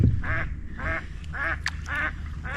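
Mallard ducks quack in a steady series of four or five calls along a river, clear and moderately close, with low rushing water and breeze underneath and no talking.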